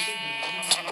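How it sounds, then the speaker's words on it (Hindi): A Minecraft goat bleats in a short, wavering cry, close and clear, with a brief sharper burst near the end. "बकरी को मार देते हैं।"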